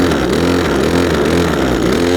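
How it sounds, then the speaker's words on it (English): A Cobra LRH270K long reach petrol hedge trimmer engine revving close by after a choke start, a loud steady buzzing drone held throughout. "And then a little rev to warm the engine."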